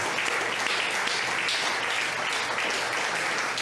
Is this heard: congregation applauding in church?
yes